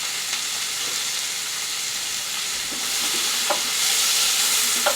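Vegetables and mushrooms cooking down in a slow cooker, a continuous soft sizzle and hiss with a few faint utensil scrapes and clicks, no talking.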